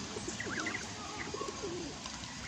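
Pigeons coo in soft repeated bursts outdoors among goslings, with faint chirps around them and a steady low background hum throughout.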